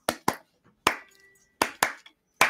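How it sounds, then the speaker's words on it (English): Hand claps in the backing track: six crisp, close claps in an uneven pattern, alone with no talking. "And we've got the clapping going on"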